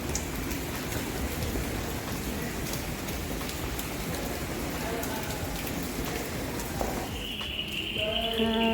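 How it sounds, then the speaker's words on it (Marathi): Heavy rain pours steadily in a dense, continuous roar, with a few faint tonal sounds rising near the end. "आता पाऊस मस्त येतोय एकदम धुवाधार पाऊस आहे"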